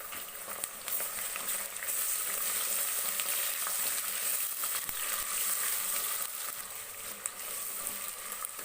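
Curry leaves, ginger garlic paste and green chillies frying in a pan for tomato bath, a steady dense sizzle with small crackles throughout, close and even, with no talking.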